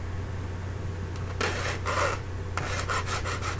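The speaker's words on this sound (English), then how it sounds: "and you'll begin filing" A hand file rasps across the metal head of a staff in several bursts of scraping strokes, a few long ones and then quicker back-and-forth passes, close up over a low steady hum.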